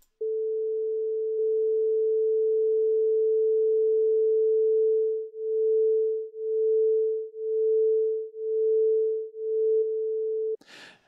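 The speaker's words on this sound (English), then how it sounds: "I'm going to turn on two oscillators that are being summed together, both at 440 Hz, and then I'll change the frequency of one oscillator to 441 Hz" Two summed 440 Hz sine oscillators sound a steady, loud pure tone; once one shifts to 441 Hz the tone swells and fades in slow one-per-second beats, then stops abruptly.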